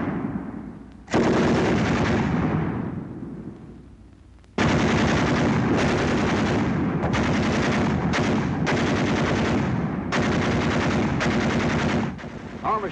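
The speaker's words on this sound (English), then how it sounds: "Ever hear a battle between 2 machine guns?" Two World War II machine guns trade long, loud bursts of automatic fire, rapid rattling volleys with short gaps between them, close and dominant.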